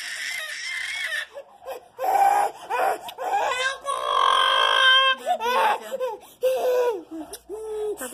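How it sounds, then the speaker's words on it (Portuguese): A ten-month-old baby girl cries and screams in loud, close, wailing bursts with short breathy gaps between them, and an adult can be heard talking in places. "Vocês estão ouvindo o choro dela, né, gente? Ela tá chorando de gritar."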